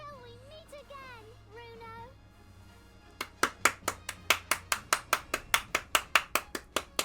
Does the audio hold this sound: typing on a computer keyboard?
no